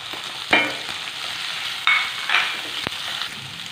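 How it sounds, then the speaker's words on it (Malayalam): Green chillies, curry leaves and chopped onions fry over a medium flame in a pan, with a steady soft sizzle broken by a few sharp scraping stirs of a spoon against the metal. "ഈ സവാള ഒരു മീഡിയം ഫ്ലെയിമിൽ വെച്ചിട്ട് നന്നായിട്ടൊന്ന് വഴറ്റിയെടുക്കാം"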